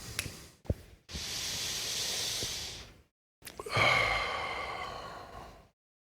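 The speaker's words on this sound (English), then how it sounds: "Focusing on the exhalation. Slow, deep breathing." Slow, deep human breathing is heard close up. A couple of short intakes come first, then a long, steady exhalation, a brief silence, and another long, airy breath out that gradually fades.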